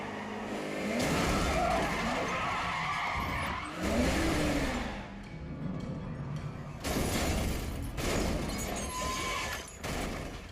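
A car in the video game Sleeping Dogs crashes and flips, with loud skidding, tire squeal, engine roar and shattering impacts in repeated bursts, up close with no talk.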